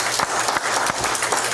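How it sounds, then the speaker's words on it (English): A church congregation claps during a Sunday service, a dense and continuous round of many hands with a few sharper claps standing out close by. "Give the Lord a hand clap."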